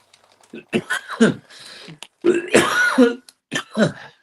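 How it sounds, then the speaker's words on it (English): A few harsh coughs and throat-clearing bursts, close and loud, spaced irregularly with short pauses between. "That makes me cough"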